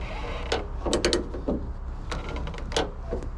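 A 32mm ratchet tie-down bar for cargo clicks in short bursts of sharp metallic ticks, close by, with irregular pauses as the mechanism is worked.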